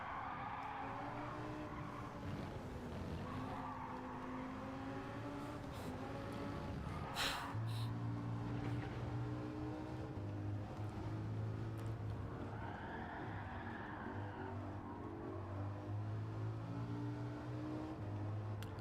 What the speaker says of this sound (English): Listen to the sound of this beast. Beautiful sound of this Huracan.